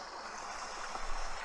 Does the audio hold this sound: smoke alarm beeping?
no